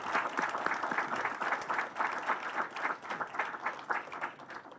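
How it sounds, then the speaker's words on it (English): Audience applause for the lecturer at the close of a memorial lecture, with lively, uneven clapping that rises and dips in waves at moderate volume. "I request you to give him a big round of applause"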